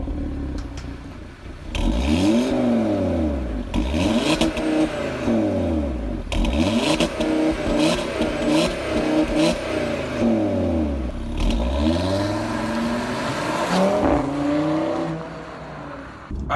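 A five-cylinder Audi RS3 exhaust revs up and falls away several times in loud, sweeping pulls, each rise climbing steeply and dropping back, with no talk over it.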